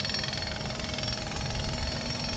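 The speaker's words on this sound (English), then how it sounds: "It's noisy with them jackhammers." Jackhammers pounding nearby on a road near St. Charles along the eastern Katy Trail, a loud, continuous rapid hammering clatter with engine drone that fills the whole stretch without pause.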